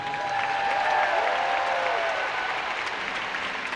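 Steady applause from a large audience at a Christian worship gathering, a continuous wash of clapping that holds at an even level throughout.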